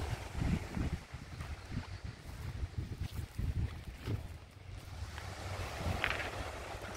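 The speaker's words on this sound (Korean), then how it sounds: "파도 소리." Sea waves wash over a pebble beach in an even, steady rush, with wind buffeting the microphone throughout and a brief brighter splash near the end.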